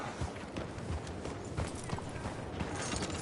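Horse hooves clip-clop in a video game, a steady, fairly quiet patter of muffled footfalls with a faint creak of movement and no talking.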